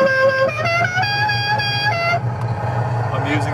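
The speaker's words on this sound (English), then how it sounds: "Let's try the horn." A simulated big rig truck horn from a student-built driving simulator blares loud and close for about two seconds in a steady harmonic tone, then cuts off, leaving a low engine rumble underneath.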